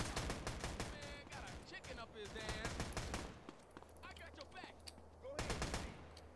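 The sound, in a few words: gunfire in GTA San Andreas video game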